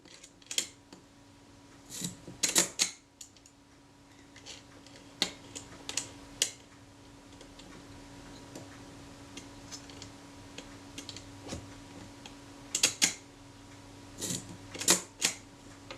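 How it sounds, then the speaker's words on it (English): Film advance lever and frame counter of a Voigtlander Perkeo II camera being worked during servicing, giving a series of close, crisp mechanical clicks and ratchets in scattered bursts against a quiet background. "I'll check the film advance, make sure that still works. The frame counter and so forth"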